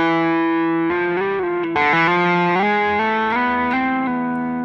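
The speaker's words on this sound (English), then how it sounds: "You can hear a lot of the string, open string, just ringing out. It sounds a bit messy." Distorted electric guitar played with only the fretting hand, open strings left ringing into a dense, messy wash of sustained notes that shift in pitch a few times, loud and close with no voices.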